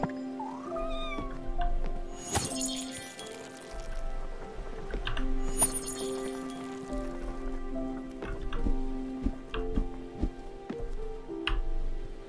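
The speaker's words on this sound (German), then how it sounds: "Immer wieder cool, wie die Katze mitsingt." In the video game Spiritfarer, a cat meows along to tonal music, with several drawn-out, singing meows over a steady melodic backdrop and pattering rain-like sounds.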